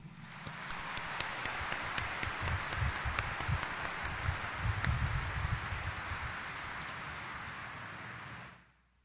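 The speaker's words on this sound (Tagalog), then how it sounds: "iparinig natin ang mas malakas na palakpak" A packed church congregation of devotees applauds loudly in a sustained, dense wave of clapping lasting several seconds, then cutting off abruptly near the end.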